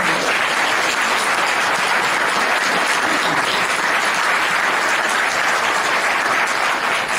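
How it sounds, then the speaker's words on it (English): A room full of club members at a high school Interact Club meeting applauds, a dense, even burst of clapping that holds at full strength throughout without any talk over it. "I would just like to ask for a round of applause for Kay Gribble and Cindy Moose"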